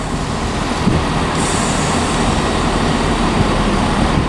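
Rumbling rail noise of a Class 170 diesel unit from Aberdeen at Edinburgh Waverley station, a steady loud low drone with a faint high hiss joining partway through.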